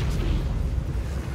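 A deep, rumbling explosion in the video game Baldur's Gate 3, a sustained low boom that fills the whole clip at steady loudness with no clear onset or decay.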